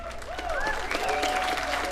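A comedy club audience applauds in a short, steady burst of clapping, with whoops and cheers rising over it.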